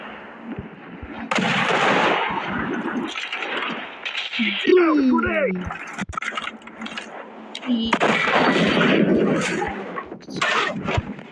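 Gunfire in the video game PUBG, bursts of shots and impacts under near-constant excited talk, with game sound effects mixed in throughout.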